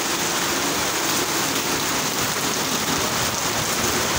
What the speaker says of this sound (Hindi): बारिश देखो ये इतना ज्यादा,